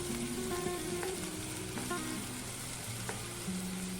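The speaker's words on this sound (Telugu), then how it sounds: "కూర వేసుకుని ఈ నేతిలోనే వేయించుకుందాం." Grated bottle gourd fries in ghee for a halwa, a steady soft sizzle with occasional stirring clinks and background hum throughout.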